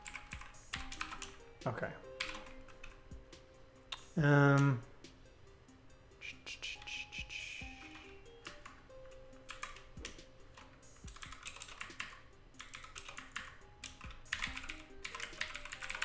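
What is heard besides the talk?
typing on a computer keyboard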